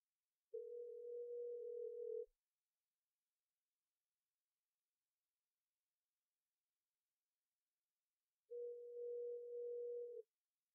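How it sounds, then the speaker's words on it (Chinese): A telephone call ringing out without an answer: two long, steady tonal beeps about eight seconds apart with silence between them, clear and alone. "香晨怎么不接电话？"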